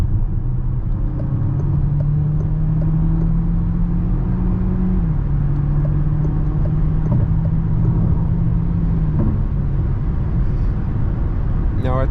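A 2023 Citroen C5 X 225 HP plug-in hybrid accelerates hard onto a highway at night, heard from inside as a steady low road rumble with a rising engine tone, while someone talks throughout.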